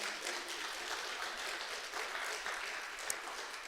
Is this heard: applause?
yes